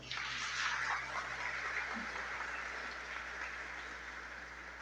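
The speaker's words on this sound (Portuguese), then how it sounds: "uma salva de palmas." A church congregation claps for Jesus at a Portuguese-language service, a steady, moderately distant patter of palms that holds for about five seconds and slowly fades, with no talking.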